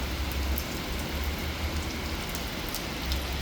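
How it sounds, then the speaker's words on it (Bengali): Heavy rain pours down steadily, a dense, loud hiss of drops drumming on surfaces with a low rumble underneath. "এখন প্রচণ্ড বৃষ্টি পড়ছে"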